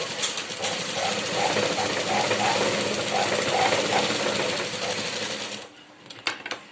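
A sewing machine stitches and joins a blouse lining in a steady, close, rhythmic whirring run that stops near the end with a few mechanical clicks.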